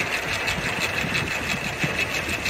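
A home wind turbine spins fast in strong wind, giving a steady, close whirring hum with a rapid pulsing flutter and continuous wind rush behind it.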